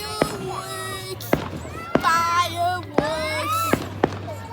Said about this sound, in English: We're recording the fireworks, guys!